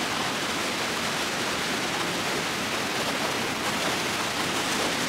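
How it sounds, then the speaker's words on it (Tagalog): Rhine Falls waterfall in Switzerland, a steady broadband roar of heavy falling water, loud and continuous with no pauses. "Gandang waterfalls nito."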